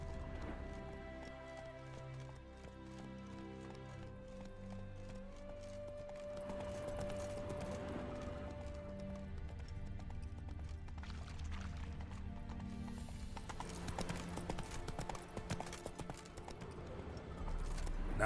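Roach the horse gallops in The Witcher 3, rhythmic hoofbeats running under game music and ambient tones, growing busier and louder toward the end.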